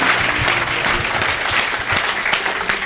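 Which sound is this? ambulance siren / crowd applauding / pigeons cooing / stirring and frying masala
crowd applauding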